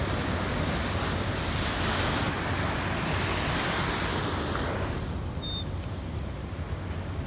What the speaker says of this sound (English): And we're enjoying the beach.